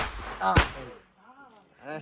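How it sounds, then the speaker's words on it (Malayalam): A single firecracker bursts with a sharp, loud bang during a Vishu celebration, standing out against nearby voices talking before and after it. "പടക്കം എറിഞ്ഞ നോക്കട്ടെ"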